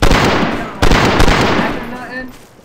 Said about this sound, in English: I can't hear you over the epic explosions